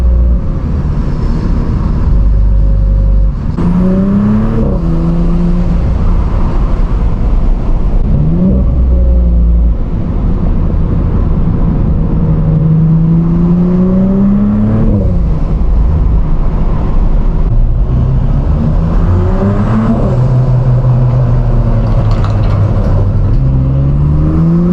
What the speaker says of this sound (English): Hope you can hear all that intake turbo noises.